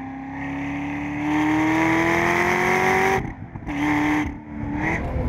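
A Chevrolet Corvette ZR1 on sticky Cup tires with carbon-ceramic brakes laps Laguna Seca, its engine note climbing loud and steady through a long pull before cutting out abruptly under braking, then surging again in shorter bursts.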